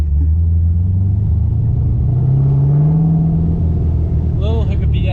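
A Pontiac Solstice with a swapped-in LS3 V8 rumbles steadily at light throttle, a loud, close, deep engine drone that rises slightly in pitch mid-run, with brief talk layered over it near the end.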